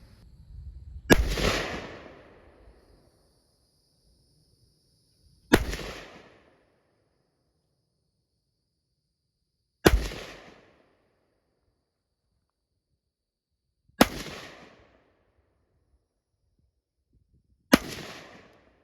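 Five single rifle gunshots at an outdoor shooting range, fired at 200 yards, each a sharp loud crack with a short decaying echo, spaced roughly four seconds apart with silence between shots.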